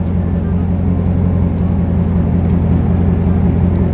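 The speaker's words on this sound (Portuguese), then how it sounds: "Se alguém veja o barulho que o carro faz." A car engine drones at a steady, loud, low pitch for the whole stretch, with no talk over it.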